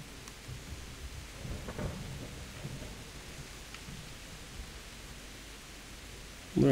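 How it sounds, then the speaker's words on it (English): Steady rain hisses in the background while low thunder rumbles roll by faintly, ending with a sudden louder burst, in the video game Kingdom Come: Deliverance. "Oh, it's raining."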